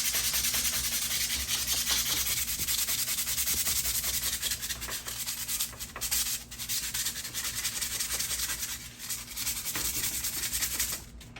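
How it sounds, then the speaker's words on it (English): Steady scraping rasp of sandpaper worked by hand over a garage door cable drum, continuous for about eleven seconds with brief pauses and no talk. "so we got to sand it a little bit."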